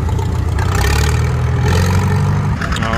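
Antique John Deere tractor pulling at an outdoor tractor pull, its engine laboring loud and close with a heavy low rumble that holds steady, then drops off near the end.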